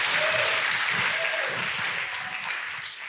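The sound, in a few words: applause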